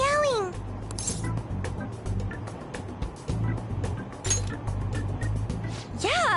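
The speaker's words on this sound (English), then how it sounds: "It meows when you press on its head." Toy cat meowing in the Persona 5 Royal video game: short rising-falling meows at the start and end, over steady game background music.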